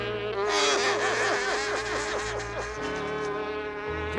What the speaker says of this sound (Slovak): Heš, mucha, choď preč,